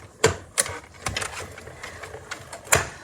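A die-cutting machine cutting card stock for handmade winter scene cards runs with a series of sharp mechanical clacks and ratcheting clicks, irregularly spaced over a faint motor hum, close and moderately loud.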